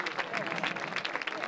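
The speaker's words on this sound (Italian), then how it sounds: "un bel applauso." A quiet round of applause rises from the audience at an Italian evening gathering, brief scattered clapping that runs under a speaking voice.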